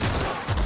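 Gunfire in the video game The Outer Worlds, a loud dense burst of shots packed into a fraction of a second with no talk over it.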